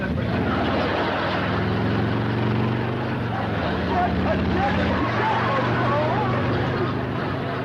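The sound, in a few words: motorcycle racing around, ridden into a house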